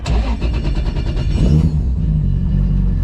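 A Toyota 2JZ engine in a 635 bhp Nissan Silvia S15 cranks with a rapid rhythmic whir, catches, and settles into a steady low idle rumble, loud and close.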